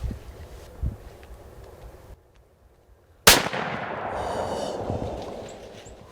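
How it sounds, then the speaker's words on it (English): A single sharp rifle shot cracks loudly at a buck during a deer hunt, preceded by quiet wind-buffeted outdoor ambience and a brief hush, with a long rumbling echo trailing off afterward. "Boston, you just shot a monster"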